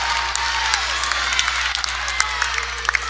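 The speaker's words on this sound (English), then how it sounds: "Brooklyn Darby gets the crowd fired up and ties it up" A crowd cheers and claps at a girls high school volleyball match between Seton and Mason, a steady wash of applause and shouts filling the gym with scattered sharp claps on top, no clear talk.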